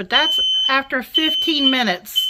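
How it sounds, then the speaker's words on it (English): A kitchen smoke alarm, set off by an open oven door while a fruit crostata bakes, sounds a continuous high-pitched tone beneath a person talking loudly nearby. "That's my fire alarm going off because I got the oven door open."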